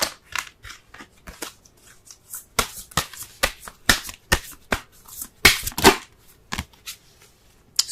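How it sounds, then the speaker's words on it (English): Romance Angels oracle cards are shuffled and pulled during a tarot reading, producing crisp, close riffles, flicks and snaps in irregular bursts with short pauses and no voice. "Let's go ahead and pull a Romance Angels card."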